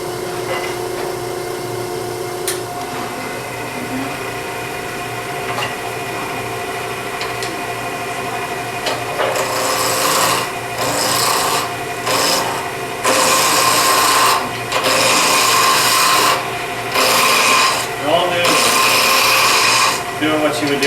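Wood lathe spinning a ring blank, a low steady hum that gives way to bursts of rough scraping and cutting as a gouge meets the turning wood, loud and close, with a voice speaking briefly between cuts.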